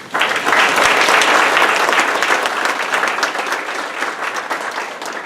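An audience at a business community event breaks into loud, sustained applause, dense clapping that starts abruptly and stays strong before easing slightly.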